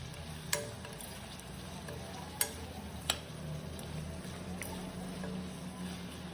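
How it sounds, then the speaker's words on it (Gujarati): Pointed gourd curry with spices being stirred in a pan, a faint continuous sizzle with a few sharp taps of the spoon against the pan, no voice over it. "અને આને આપણે સારી રીતે મિક્સ કરી લેવાનું છે"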